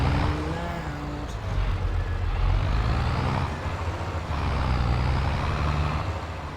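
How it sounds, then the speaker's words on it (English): Old Fiat tractor engine in Farming Simulator 22, a loud, steady low rumble with a constant drone that holds throughout, with no talking over it. "This tractor's loud."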